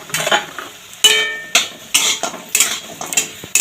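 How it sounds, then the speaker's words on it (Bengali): Bori lentil dumplings frying in hot mustard oil in a wok, with loud repeated scraping and clinking of a metal spatula stirring over a steady sizzle, close up and without talk. "দেখো তেলটা গরম হয়ে গেছে, এখানে বড়িগুলো ভেজে নেব"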